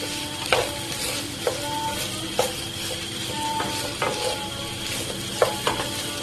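Okra frying lightly in oil in a pan gives a soft steady sizzle, broken by a few sharp clinks and scrapes as a utensil stirs it against the pan.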